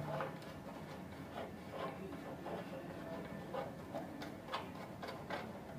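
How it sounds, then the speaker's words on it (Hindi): Bolts being loosened on an HRC fuse during circuit breaker maintenance: faint, regular ticking clicks that repeat about every half second, like a tool working the threads, against a quiet background. "आपने आराम से बोल्ट को खोल लेना है दोनों को।"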